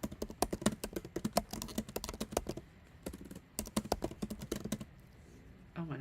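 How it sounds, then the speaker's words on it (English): Rapid typing on a computer keyboard during a live workshop, dense bursts of sharp key clicks close to the microphone, pausing briefly midway before resuming, with no talk over it. "I can't type and do this at the same time"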